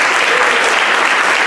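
A church congregation breaks into loud, dense applause, many hands clapping together in a steady roar that fills the space without pause.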